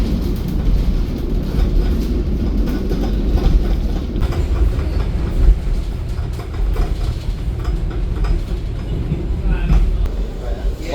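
Wijaya Kusuma passenger train rolling into Ketapang station, Banyuwangi, heard from aboard: a steady low rumble of wheels and carriage with faint rhythmic clatter throughout, and a voice speaking briefly over it.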